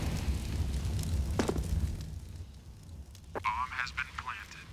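A grenade blast in Counter-Strike on the Dust2 map during a professional ESL Pro League match, heard as a sharp burst with a brief boom under steady commentator talk, followed by further in-game noise.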